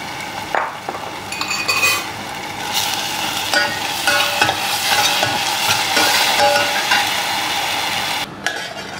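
Spices sauté in a pan with a steady hiss of frying, while a spoon stirs and scrapes against the metal in repeated close clacks and brief knocks.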